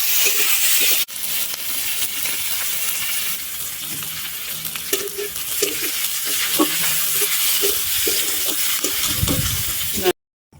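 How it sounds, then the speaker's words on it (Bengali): Chopped onion and green chilli fry in mustard oil in a pan, a steady sizzle with spatula stirring and scraping throughout, loud and close, cutting off abruptly at the end. "পেঁয়াজ আর লঙ্কাটা একটু ভেজে নেবো"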